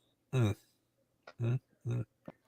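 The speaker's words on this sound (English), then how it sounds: "Burp." Three short, loud, throaty burps close to the mic, the first longer and the next two quick and evenly spaced, with brief faint noises between them.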